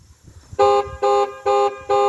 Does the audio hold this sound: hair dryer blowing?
no